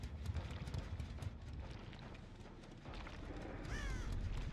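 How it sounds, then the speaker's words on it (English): A crow caws briefly near the end in Dead by Daylight, rising over steady wind-like game ambience and muffled thumping. "I heard a crow"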